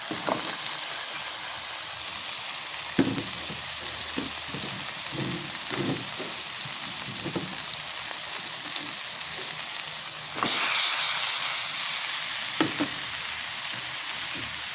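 Upo gourd hitting a hot pan with pork, a steady close sizzle with scattered stirring clicks and a louder burst of frying near the end.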